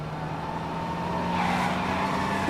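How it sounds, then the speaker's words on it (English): Cars in the Mafia video game drive by with a steady engine drone that swells gradually louder, ending in a brief high squeal, with no talking. "No one hears the cars?"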